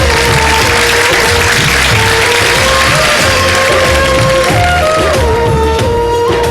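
Sustained, loud clapping from a studio audience at a live Ramadan iftar broadcast, an even roar of many hands with a voice faintly audible.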